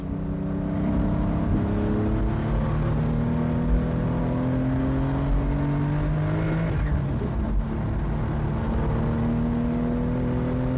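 A 2026 Porsche 911 Carrera T with a manual gearbox pulls hard through the gears, its engine note climbing in steady rising sweeps with a brief dip at a shift, loud and continuous from inside the car.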